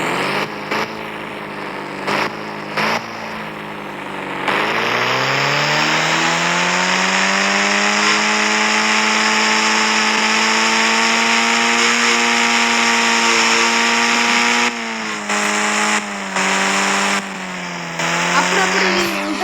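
Boat engine from the Indian Bikes Driving 3D video game, a steady droning motor hum that rises in pitch as it revs and holds loud and continuous for most of the stretch, with choppier bursts at the start and end.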